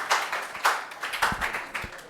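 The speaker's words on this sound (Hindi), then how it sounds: "तो तालियां।" Audience clapping for students honoured for selection in JET and CUET (ICAR, BHU), heard as a short run of separate, fairly close claps rather than a full wave of applause.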